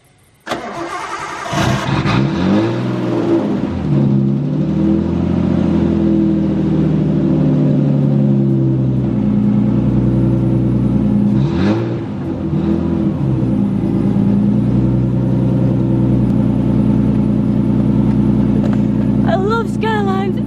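A Nissan R32 Skyline drift car with a rebuilt turbo cranks and fires, then settles into a loud, steady, rumbling run that continues close by throughout.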